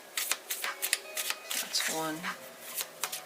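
Tarot cards being shuffled in a series of quick, soft riffling bursts, close by, mixed with a person talking throughout.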